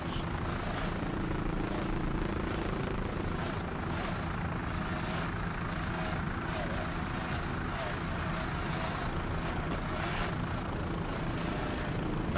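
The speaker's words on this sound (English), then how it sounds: "Nice throttling there by Lance Vincent." A racing boat with twin 2.5 EFI outboard motors roars as the throttle is worked, a steady, droning engine noise that rises and falls slightly, with a commentator talking over it.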